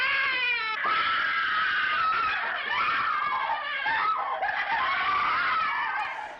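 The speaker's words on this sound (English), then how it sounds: "He's just screaming." A man in the horror film Don't Look in the Basement screams, a long, loud, strained cry that dominates the whole stretch.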